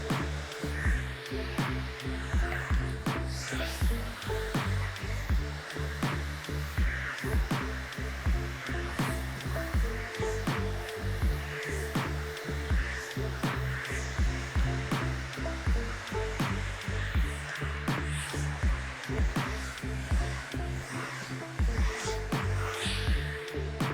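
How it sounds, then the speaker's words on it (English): A hair dryer blows steadily and close for the whole stretch while hair is dried with a half paddle brush, a continuous rushing hiss with slight fluctuations and no talking. "you guys could blow dry the back with, especially if it's a mullet"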